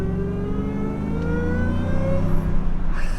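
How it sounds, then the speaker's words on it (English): Shelby F150 pickup with a Whipple supercharger accelerating hard, a loud, continuous engine and exhaust roar with rising tones and a high supercharger whine building over about three seconds, close and with no talking. "Did you hear that exhaust note?"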